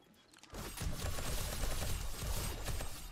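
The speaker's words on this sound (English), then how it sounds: "we need more shotgun turrets up here. The shotgun turret doesn't have the angle." Shotgun turrets fire during a horde night in the video game 7 Days to Die Alpha 20. After a quiet start, a dense, continuous barrage of overlapping gunshots and blasts rolls on loudly for several seconds.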